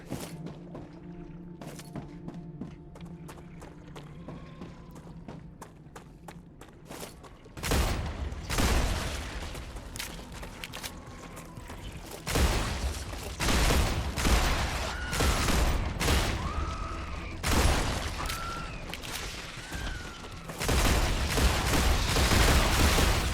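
Gunshots ring out at creatures in the survival automation game Star Rupture, a string of loud sharp reports, some in quick bursts, over low background hum and scattered clicks, growing louder and more frequent partway through, with no talk.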